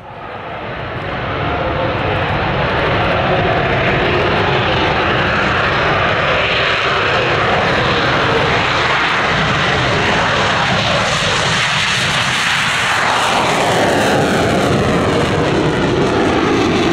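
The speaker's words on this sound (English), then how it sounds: "we proudly present you the Polish F-16 Fighting Falcon" A loud, sustained jet engine roar from a Polish F-16C Block 52+ Fighting Falcon fighter jet fills the air, a broad rumbling blast that swells slightly and holds steady throughout, with no voices.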